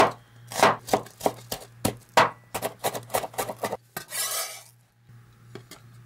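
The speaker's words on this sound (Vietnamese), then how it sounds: "Hành tím thì mình xắt nhỏ." Quick knife strokes mincing shallots knock against a wooden board in uneven bursts, followed by a brief scraping rub, close up.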